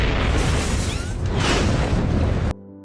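A huge explosion in an anime isekai story, set off by a rock thrown with physically boosted strength: a loud, dense, rumbling blast that roars steadily for about two and a half seconds, then cuts off abruptly.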